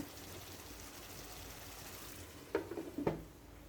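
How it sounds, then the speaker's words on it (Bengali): Liver pieces being stirred and braised in a pan with a little water for a liver curry, a low steady sizzle with two sharp spoon scrapes against the pan near the end. "এখন আমি এই পানির ভিতরে ভালো করে কলিজাগুলো কষিয়ে নেব"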